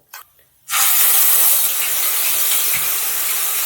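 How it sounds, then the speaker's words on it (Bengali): A ginger, onion, garlic and tomato paste hits a hot oiled pan with five-spice tempering and dried chilli, bursting into a loud, close, sustained hiss after a couple of soft clicks, with no talk. "এরপর আমি পেস্টটা দেব আদা পেঁয়াজ রসুন টমেটো"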